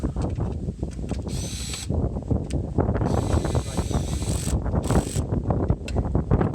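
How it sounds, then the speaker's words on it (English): A small electric driver tool runs in repeated short bursts while working screws on a 2006 Honda Insight, its whirring and ratcheting loud and close against the mechanical noise of the job. "if you're using a little driver tool like this, crank the power all the way down"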